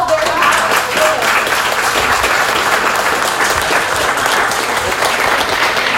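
An audience at a community meeting with a state senator applauds a guest speaker, a sustained, loud, even wash of many hands clapping from start to finish, with faint voices mixed in.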